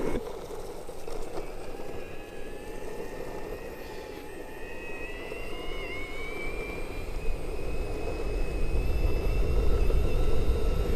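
Electric skateboard carving along a road, with a steady rolling rumble of wheels and a rising, whining motor tone that slowly grows louder, close and continuous.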